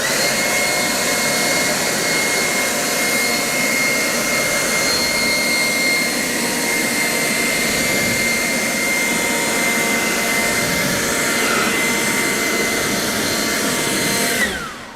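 A forced-air blower drying off a car freshly coated with a nano ceramic coating roars steadily and loudly for the whole span, a continuous jet-like rush of air that cuts off abruptly at the end.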